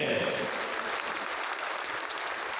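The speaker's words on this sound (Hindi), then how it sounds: "जोर से ताली बजनी चाहिए" An audience at a Jan Suraaj party meeting in Patna's Bapu Sabhagar hall applauds in a steady burst of clapping, with a voice audible briefly at the very start.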